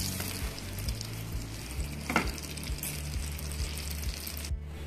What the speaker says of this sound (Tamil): இப்போ பர்கர் பிரெட் ஃப்ரை பண்ணிக்கலாம்.